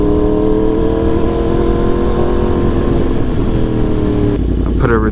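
A Yamaha R1 sport bike ridden gently to scrub in a freshly fitted tire, its engine droning steadily and close with wind rush, then dropping off sharply near the end as a voice speaks.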